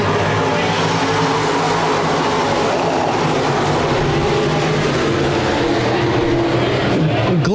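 Stock cars racing at Park Jefferson Speedway under green flag conditions, a dense continuous roar of many engines close by, with a broad rumbling wash and rising engine whine near the end, mixed with a commentator's voice.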